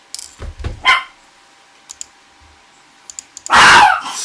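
A dog barks in short sharp bursts, a few quick yaps at the start and a louder, longer bark near the end, with faint clicks between; no talking.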